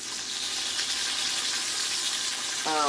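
Bacon frying in a pan, a steady bright hissing sizzle close by, with a brief voice right at the end.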